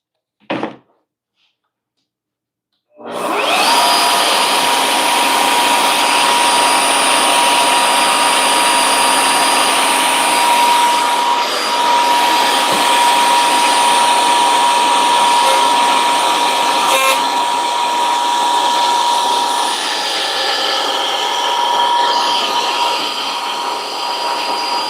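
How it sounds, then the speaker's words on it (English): A power tool, likely a wood router, cutting mahogany for a desk organizer: a brief thunk, about two seconds of silence, then a loud, close, steady high-pitched motor whine that runs without pause for over twenty seconds, no talk. "The router scares me."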